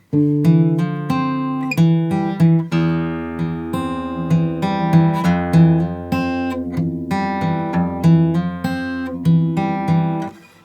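A clean electric guitar plays the middle eight of a song, melodic picked notes and chords at a moderate, steady pace, close and clear.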